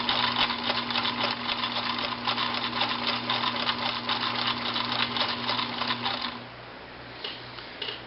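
A Pfaff 1222E sewing machine runs a long straight stitch through fabric, a close rapid ticking chatter with a steady motor hum for about six seconds before stopping, followed by a few soft clicks.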